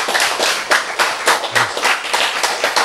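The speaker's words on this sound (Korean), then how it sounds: "박수!" A small audience claps together at a Korean-language talk, bursts of hand claps repeating in a steady, quick rhythm for about three seconds, fairly close and with no one speaking over it.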